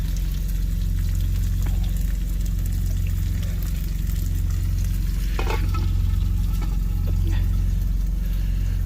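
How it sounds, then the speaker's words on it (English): A well-marinated steak searing in a pan in the cab of a big rig, a loud steady sizzle with crackles over a constant low engine hum, close and continuous, with a brief louder spatter midway. "putting the steak in the pan"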